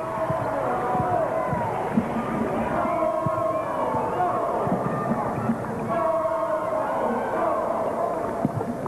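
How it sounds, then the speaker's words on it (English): A college women's basketball crowd urges the Eaglettes on against Southern Illinois in a gym, a sustained murmur and swell of voices with scattered shouts and court thuds beneath a commentator's talk. "the crowd starts to urge the Eaglettes on"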